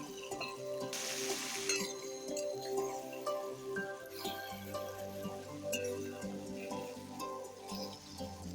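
Ginger paste, chopped tomato and green chillies sautéing in a pan for Bengali katla fish-head moong dal, a steady close sizzle with a brief louder hiss near the start and light stirring throughout.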